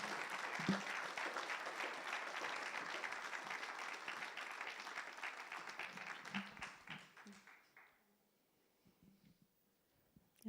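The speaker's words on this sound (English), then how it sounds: "So let's give her a hand of applause." Applause at a funeral service, a steady wash of clapping from the gathered mourners that holds for several seconds, then tapers off into near silence.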